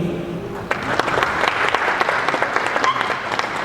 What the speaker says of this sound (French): Bon, applaudissez pour le Cameroun